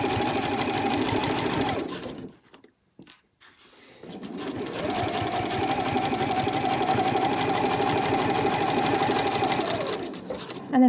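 A sewing machine stitches fabric for a travel wallet with pink thread, running steadily and close, pausing briefly for a couple of seconds before resuming its continuous whirring hum.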